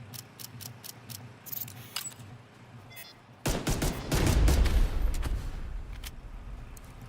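Rapid gunfire bursts in The Division 2 as shots knock out flames, a loud sustained volley after a quieter stretch of sparse mechanical clicks.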